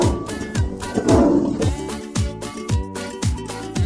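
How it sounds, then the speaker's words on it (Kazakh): A tiger lets out a rough, loud roar near the middle, close and prominent above a steady rhythmic background music beat that continues throughout. "жолбарыс"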